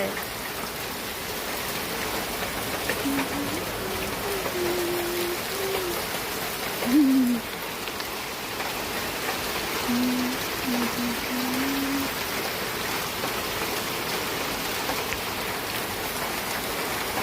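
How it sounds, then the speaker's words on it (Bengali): Steady rain falling outdoors, a constant even hiss of drops on surfaces that continues unbroken throughout at moderate level, with brief faint vocal sounds at moments. "বৃষ্টি রে বৃষ্টি না জড়ে আজকে যাব না গড়ে"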